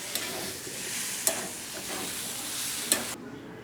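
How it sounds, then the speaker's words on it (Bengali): Burger filling being stirred as it fries in a pan, a steady broadband sizzle with a few sharp scraping clacks of the utensil, close and moderately loud, ending abruptly. "এবার আমি নাড়িয়ে নিয়ে নামিয়ে নেব।"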